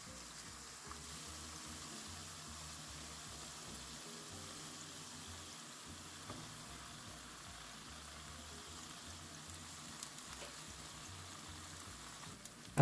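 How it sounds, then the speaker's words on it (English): Chicken taquitos frying in oil give a soft, steady sizzle and crackle that runs throughout, faint and fairly even with a few small pops near the end. "we are going to continue to fry these until they are golden brown on each side"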